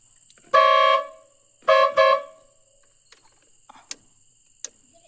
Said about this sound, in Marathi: चालेल आता हॉर्न दाखवतो भावानं.